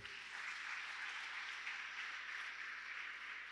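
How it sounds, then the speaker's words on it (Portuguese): A church congregation applauds after a prayer, a faint, distant and continuous patter of clapping with no voices over it. "Vamos aplaudir a Ele?"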